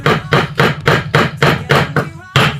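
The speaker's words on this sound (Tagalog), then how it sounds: "Tapos pupukpuk natin dito ng dahan-dahan." A hammer taps repeatedly on a stuck ignition control of a La Germania gas stove, giving steady close metallic knocks about five times a second with a brief pause near the end.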